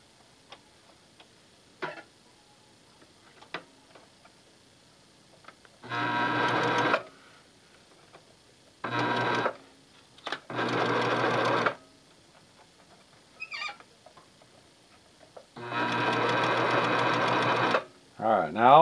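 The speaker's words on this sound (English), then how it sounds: "you want to fold it over and you want to sew it into a big long tube" A sewing machine stitches folded cloth into a long tube, running in several bursts of rapid mechanical whirring separated by pauses with small clicks and handling sounds, close by.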